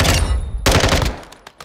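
Gunfire in Call of Duty: Modern Warfare II at the firing range, loud sustained bursts with a sharp burst onset partway through, then scattered single shots trailing off.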